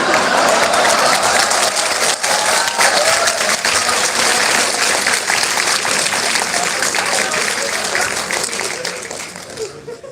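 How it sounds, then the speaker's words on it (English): A college-festival audience at IIITB Confluence 2025 claps in a loud, dense, steady wave that fills the hall and eases off slightly toward the end. "You're not supposed to clap at this."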